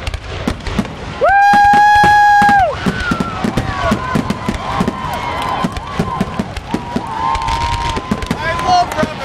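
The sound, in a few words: rapid-fire fireworks exploding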